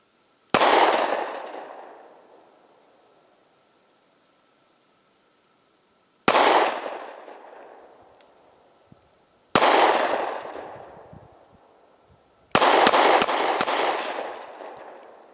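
Firearm shots fired at a target on a shooting range: four sharp single reports spaced several seconds apart, each with a long decaying echo, and a final quick volley of several close shots, loud and with no voices.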